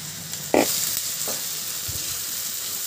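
Onions frying in a pan over low flame, a steady close sizzle with a single clank of a utensil or lid early on.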